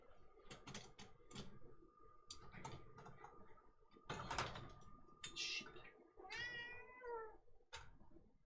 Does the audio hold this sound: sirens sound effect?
no